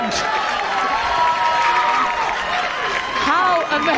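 A rugby crowd at a Sale Sharks match against Gloucester-Hartpury cheers after a try, a sustained, loud roar of voices from a large stadium audience with a commentator talking over it.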